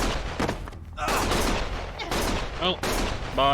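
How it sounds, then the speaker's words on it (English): Gunfire erupts in the action game Lost Judgment, with rapid bursts of shots mixed among shouting voices and brief quieter gaps across a few seconds. "Stop shooting!"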